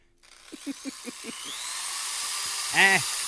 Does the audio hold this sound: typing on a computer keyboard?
no